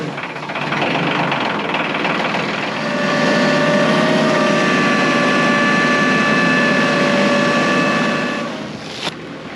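A tractor engine runs steadily up close, a loud continuous drone with a tonal whine that rises slightly midway, with no talking.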